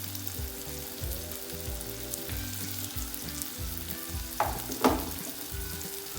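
Turmeric, chili powder and salt frying in a pan while cooking a prawn biryani, a continuous close sizzle with a few louder stirring scrapes near the end.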